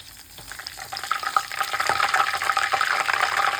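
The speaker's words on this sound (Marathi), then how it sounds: "पाणी शिंपडल्यावर जर असा आवाज आला तर ह्या स्टेजला गॅस बंद करायचा" A few drops of water are sprinkled into hot homemade ghee, setting off a crackling, bubbling sizzle that starts soft and grows louder and denser, close by, with no talking.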